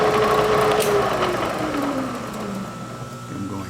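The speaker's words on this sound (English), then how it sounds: "I'm going to switch over to the reamer" A reamer cuts dry into a cast iron axle bearing hub from a 1953 Ford NAA tractor, a loud steady mechanical whine and grind whose pitch slowly falls as the machine slows.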